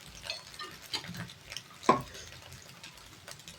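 Egg and chopped vegetables sauté in a pan for wheat noodles, a soft, steady sizzle with scattered stirring scrapes and one sharp utensil clink near the middle, fairly quiet and close.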